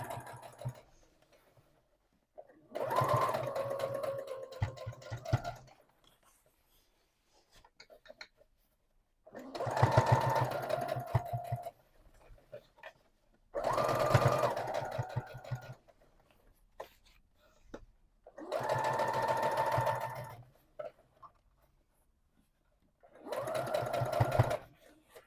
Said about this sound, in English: now we're going to do another row of sewing